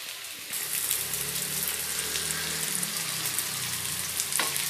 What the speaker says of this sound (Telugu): మంచిగా ఫ్రై చేసుకుంటున్నాను మీడియం ఫ్లేమ్ లో పెట్టండి